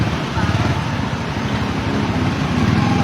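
Busy street traffic in front of a city hall, a steady broadband rumble of passing cars and heavy vehicles close by, continuous and loud throughout with no break.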